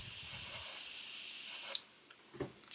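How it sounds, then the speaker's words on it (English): An aerosol can lightly spraying metallic paint onto a masked plastic model, a steady close hiss lasting under two seconds before cutting off, followed by faint handling clicks. "just lightly spray that on"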